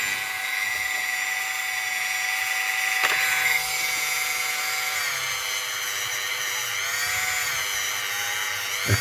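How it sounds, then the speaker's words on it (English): Quad Zero steel wool scrubbing fire scale off a British fifty pence coin ring, a steady close, high-pitched abrasive whine with tonal streaks that drift in pitch, running continuously throughout. "it's just like Quad Zero steel wool. It just gets the fire scale off, cleans it up a bit"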